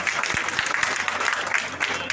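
Clapping from a gathered crowd welcoming a guest at a community meeting, a brisk patter of many hands lasting a couple of seconds with a faint hum beneath.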